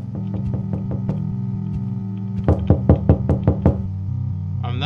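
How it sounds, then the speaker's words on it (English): Knocking on a door at home, first a soft run of evenly spaced raps, then after a pause a louder, sharper series of about seven knocks, close by over a steady low hum. "Who is knocking at the door?"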